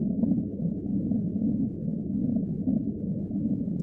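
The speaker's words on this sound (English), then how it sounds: "And that noise is going to be the star drive rumble." A library sound effect of a spaceship star drive rumbling, a steady deep low drone that holds evenly throughout as a continuous background bed.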